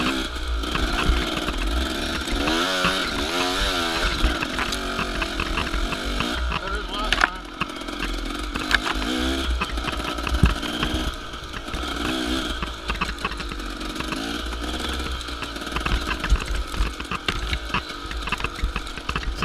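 Hare scramble dirt bike with a cracked exhaust pipe and broken brake lever, its engine buzzing and rasping continuously with rising and falling revs and rattles, up close throughout.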